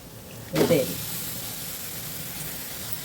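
Pieces of korameenu fish drop into onion masala frying in a pan in an Andhra-style kitchen, giving a short burst of sizzling that settles into a faint steady hiss.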